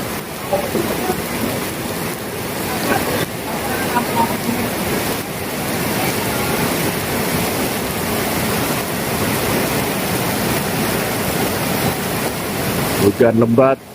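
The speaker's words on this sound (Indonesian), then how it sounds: "Hujan lebat di Swiss Songgon." Heavy rain pours steadily at Songgon in Banyuwangi, Java, a dense, continuous wash of noise that stays loud and even throughout, with a brief louder clatter near the end.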